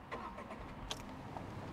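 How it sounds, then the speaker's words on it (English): Tata Tiago XTO hatchback engine cranking and catching in a short, quiet start, with a brief click and a soft, low engine hum that barely rises above the background. "Let's start the car once."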